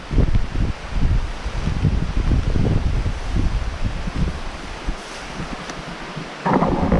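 Strong wind gusting outdoors by a cut-off water channel, a loud roaring buffet against the microphone that surges and eases for several seconds with no voices.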